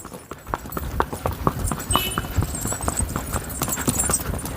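Hooves of a walking Sindhi mare, stiff after long standing in the cold, clop crisply and regularly at close range, with a little voice in the background.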